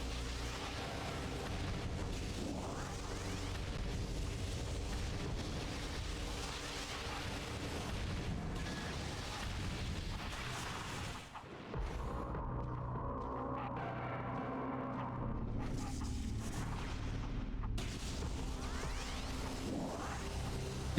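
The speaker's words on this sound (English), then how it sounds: "But first take care of the little scatter bombs." Repeated explosions from little scatter bombs in Metroid Prime's Phazon Mines, a dense, continuous barrage of booms and bursts with a brief lull near the middle before resuming.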